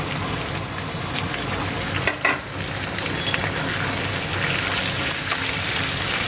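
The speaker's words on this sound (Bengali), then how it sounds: "এবার কড়াইশুঁটি আর টমেটোগুলো ছেড়ে দিলাম।" Peas and tomatoes frying in a pan, a steady broadband sizzle running throughout with a brief louder clatter of stirring near the middle; no voices.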